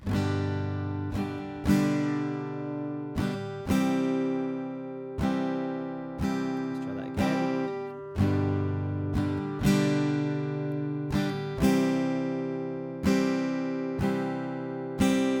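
Strummed guitar chords ring out in a steady pattern, each new chord, including a G with B in the bass, struck slightly ahead of the beat, clear and close with no voices.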